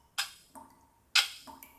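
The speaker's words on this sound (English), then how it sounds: "She could hear the dripping faucet in the kitchen and the ticking clock in the living room." Two sharp clock ticks, each followed by a softer tock, sound close and clear in an otherwise silent house, with nothing else heard in between.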